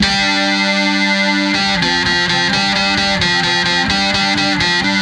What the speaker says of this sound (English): So it's able to play those two, the synth sound and your distortion sounds, in parallel.